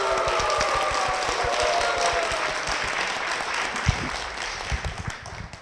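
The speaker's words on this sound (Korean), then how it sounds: "박수로 모시겠습니다." A church audience applauds to welcome a church elder, a steady wash of many hands clapping at moderate distance that fades slightly, with a few sharper individual claps near the end.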